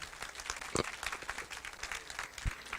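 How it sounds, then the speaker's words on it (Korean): Audience applause closing a long evening lecture for parents at a university admissions briefing, a dense wash of hand claps with a few sharper individual claps standing out. "긴 시간 강의해 주신 박두일 선생님께 다시 한번 큰 박수 부탁드립니다"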